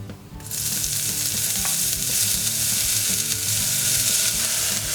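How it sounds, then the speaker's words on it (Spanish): Spring onion dropped into hot oil bursts into a loud, sustained sizzle after a brief quiet start, frying steadily and close up. "En un poco de aceite caliente ponemos la cebolleta."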